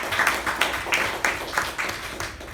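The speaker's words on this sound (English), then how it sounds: "a big round of applause for Toastmasters" Applause at a Toastmasters club meeting: a moderately loud run of even, rhythmic claps that repeat steadily for a few seconds, with no talking.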